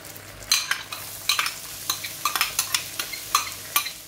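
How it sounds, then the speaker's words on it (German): Onions frying in bacon fat in a pan give a steady close sizzle, broken by repeated sharp scraping stirs at an irregular rhythm, with no talking. "da braten wir dann die Zwiebeln an"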